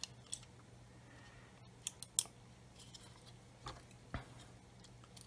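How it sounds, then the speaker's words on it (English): Scattered sharp snips and small clicks sound close by as plastic flash is trimmed from an Airfix 1/24 F6F-5 Hellcat model kit part, a few isolated cuts over quiet background hum. "I'm just going to cut that flash off"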